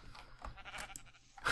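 Sheep bleating in the video game Minecraft, a few short bleats from a farm animal over quiet game background, the last one louder and nearer.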